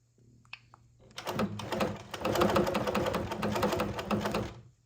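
A sewing machine free-motion quilting a blanket starts after a few soft clicks and runs in a fast, even needle rattle, close and steady for several seconds.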